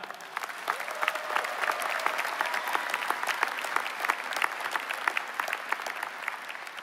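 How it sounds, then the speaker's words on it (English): A graduation audience at a business school commencement applauds, a dense, steady patter of many hands clapping at moderate distance, continuing evenly from start to finish. "give yourselves a big round of applause for a job well done."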